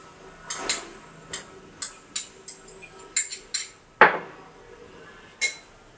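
Garlic paste mixed with salt, sugar and pepper in a bowl, a string of close, sharp clinks and taps of a utensil against the dish at an uneven pace, one louder knock near the end, no talking.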